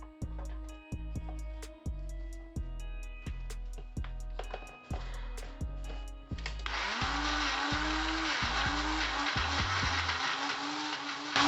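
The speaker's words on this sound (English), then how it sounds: "give it another whisk or stir in the blender." A kitchen blender whirs in short, repeated pulses as it works leaves, coriander, garlic, ginger and onion for a homemade hair oil, then runs into one longer, louder continuous grind near the end.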